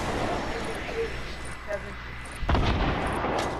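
Rocket launcher blast in the Fortnite battle royale game: a sudden broadband boom about two-thirds of the way through, over a steady background of game noise and scattered smaller sounds, with a player talking nearby.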